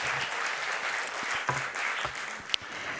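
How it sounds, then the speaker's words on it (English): An audience at a library speaker series breaks into steady applause, a moderately quiet, even wash of clapping with a few sharper claps. "So round of applause for Hunter Tylo."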